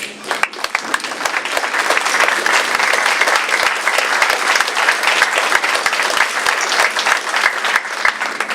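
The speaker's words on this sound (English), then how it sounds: "please stand for a round of applause" An audience at a community college program celebration gives a standing round of applause, dense and sustained clapping that stays full and even throughout, with a few sharper claps popping out.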